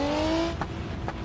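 Nissan GT-R car driving, a short burst of engine whine rising in pitch, heard close, followed by a couple of thumps.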